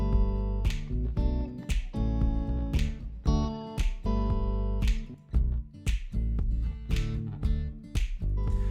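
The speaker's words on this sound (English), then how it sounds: "I open up the acoustic guitar as the song goes on to give it build." Acoustic guitar strummed in a feel-good pop track that opens up to build, with bright repeated strokes over a full mix, moderately loud and with no voices.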